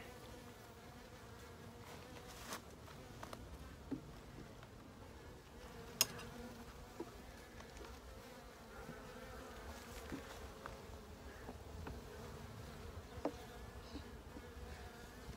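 Honeybees hum in a soft, constant drone close by at an open Dadant hive, with faint occasional clicks and knocks, and no voices.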